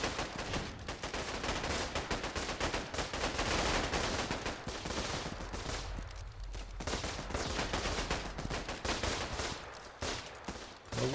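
Rifle and machine gun fire in a trench warfare video game rattles in dense, continuous bursts of rapid shots with overlapping impacts, loud and close for the whole stretch.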